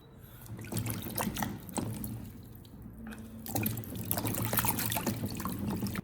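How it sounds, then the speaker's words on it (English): Tap water runs over fresh ginger root being rinsed in a sink, a close, continuous splashing trickle with a brief lull midway before the flow picks up again. "I'm giving the ginger a quick rinse to wash away any dirt hidden in the crevices."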